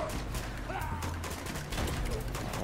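A gunfight in Uncharted 2 rattles along as a rapid, overlapping stream of close shots and bursts, loud and nearly continuous, with faint voices underneath.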